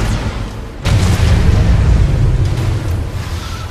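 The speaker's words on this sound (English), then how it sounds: "Nuclear weapon launched" A nuclear weapon detonates in the C&C Rivals mobile strategy game, a sudden loud low boom at about one second that swells into a sustained rumbling roar and holds steady to the end.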